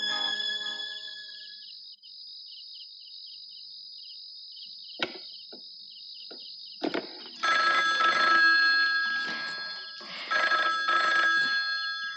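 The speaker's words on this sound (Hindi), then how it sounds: "किसका फोन है?" An electronic telephone ringtone trills in repeated bursts over a high, steady insect-like background tone, with a few sharp knocks before the rings.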